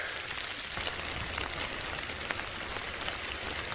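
Rain falls at a campsite in the Pennsylvania mountains as a faint, steady hiss with scattered soft drop ticks, continuous and even with no voices.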